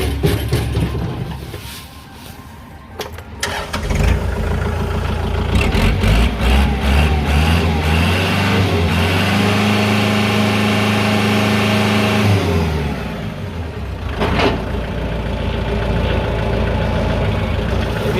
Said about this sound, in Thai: เดี๋ยวลองมาสตาร์ทเครื่องยนต์ดู